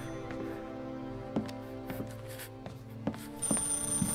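A telephone rings repeatedly in Mafia Definitive Edition, with short bell bursts spaced at intervals over quiet game background sound.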